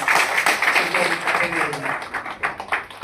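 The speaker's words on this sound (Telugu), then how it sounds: "ప్రొఫెసర్ కనకయ్య గారికి చప్పట్ల ద్వారా అందరం" Applause for Professor Kanakayya at a community meeting: a steady wash of clapping from the crowd lasting a few seconds, with a voice heard over it.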